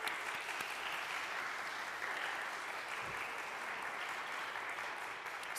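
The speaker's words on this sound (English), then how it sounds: "So please give a huge round of applause to Terry." Steady applause from a meeting audience at a church's semi-annual gathering, a continuous even wash of clapping held at moderate distance with no break for the whole stretch.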